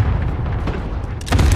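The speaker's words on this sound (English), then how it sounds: "I want the airstrike here. Got your request. Buster strike is active." Airstrike explosions in Call of Duty Warzone on the Fortune's Keep map, a loud rumbling boom that swells and sharpens near the end.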